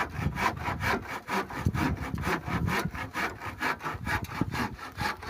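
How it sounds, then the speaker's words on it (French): Hand saw cutting through wooden planks while building a dry toilet, a steady close rhythm of rasping back-and-forth strokes, about two or three per second, loud and alone. "je suis en train de scier les dernières planches"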